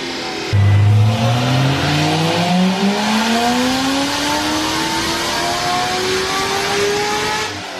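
A 2013 Corvette ZR1 V8 with stock mufflers and an X-pipe revs up loud and close, its engine tone climbing steadily through the gears in a sustained accelerating roar that holds for several seconds.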